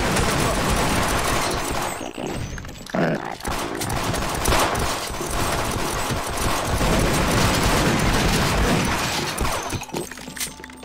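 Turret fire in a video game rattles in dense, sustained bursts, loud and close, with crashing impacts mixed in and excited voices talking over the barrage.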